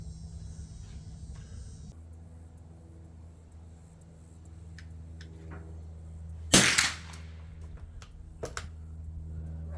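A single suppressed shot from an LMT MWS 6.5 Creedmoor rifle with a sound suppressor, one sharp crack standing out against a low rumbling outdoor background, followed by a fainter second bang.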